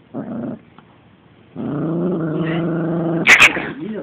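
A small rat dog growls angrily in two bursts, a short snarl and then a longer, steady rumbling growl that ends with a couple of sharp yips, close and loud with no talking.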